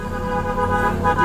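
A car horn sounds as one sustained, steady tonal honk close by, lasting the whole moment with no break and no voices.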